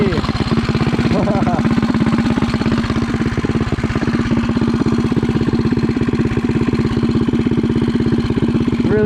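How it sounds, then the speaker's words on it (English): A Megamoto motorcycle engine runs steadily at idle, loud and close, with a fast, even, putting chug and some mechanical clatter that continue throughout. "This bike sounds so amazing."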